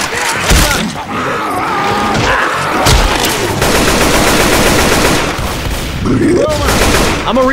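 Heavy weapon fire in Left 4 Dead 2, a loud dense rattle of automatic shots and booms running the whole time, with groaning voices and shouting mixed in over the din.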